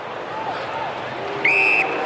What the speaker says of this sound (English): As the crowd lulls, plenty of noise across the Gabba.